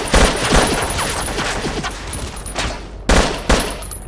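Old Yugoslav weapons fire in a Battlefield Yugoslavia game mod: sharp, close shots in quick runs, with a heavy burst at the start and another near the end, over continuous background battle noise.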